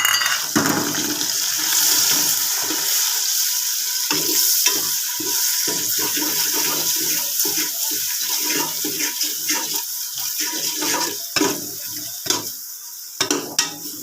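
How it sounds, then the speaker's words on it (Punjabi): Onions and chilli spice masala fry and sizzle in a pot in a village kitchen, a continuous hissing crackle broken by scraping and stirring strokes, close and fairly loud. "ਪਿਆਜ਼ ਹੁਣ ਬਰਾਉਨ ਹੁੰਦੇ ਆ ਤੇ ਬਾਕੀ ਫਿਰ ਮਿਰਚ ਮਸਾਲੇ ਅਸੀਂ ਵਿੱਚ ਸ਼ਾਮਿਲ ਕਰਦੇ ਆ"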